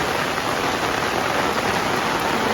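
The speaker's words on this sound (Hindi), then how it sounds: "बहुत तेज़ बारिश है." Heavy rain pours down steadily and loudly at a hill resort, a dense unbroken hiss with no voices.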